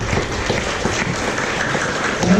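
A class applauds, a brief dense patter of clapping from many hands at a steady moderate level, continuous for a couple of seconds.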